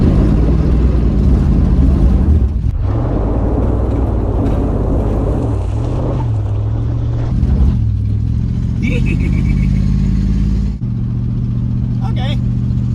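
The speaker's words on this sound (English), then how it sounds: "What a nice running engine." A 1979 Chrysler 300 engine idles and revs steadily up close, its low rumble rising and falling in pitch through the whole stretch, with a brief belt-like squeal near the end and someone talking over it.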